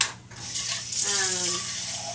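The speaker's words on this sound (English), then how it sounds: "I'm going to add a little bit of water" Water pours into a pot of kale and cannellini bean stew, a short soft splashing trickle lasting about a second and heard close up and fairly quiet.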